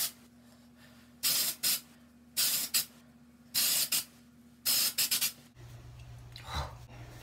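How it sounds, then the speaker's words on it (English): Tarte dry shampoo sprayed into hair in four bursts of close, loud aerosol hiss, each a second or so long and separated by short pauses, over a low steady hum. "sit there and spray it in my hair without like having to air out the room"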